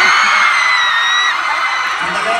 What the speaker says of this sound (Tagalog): Pumalakpak na may kasamang hiyaw